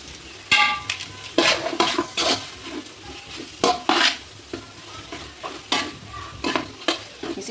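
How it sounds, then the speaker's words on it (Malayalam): A spatula stirs biryani masala in a pan, with repeated scraping strokes in an uneven rhythm over a soft sizzle. The strokes are close and fairly loud, with no talking. "അതും കൂടെ ചേർത്തിട്ട് എന്ത് ചെയ്യാം, നല്ലോണം ഇളക്കി കൊടുക്കാം."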